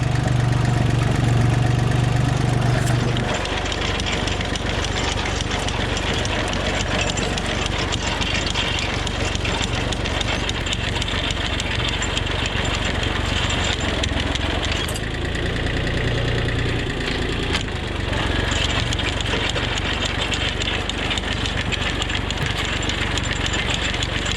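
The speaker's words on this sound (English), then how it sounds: "when I let the clutch out, it'll probably lose a lot of RPM" A tractor engine runs steadily at a loud, close drone while the clutch is let out during potato digging and harrowing, its steady rumble shifting slightly in tone without pausing.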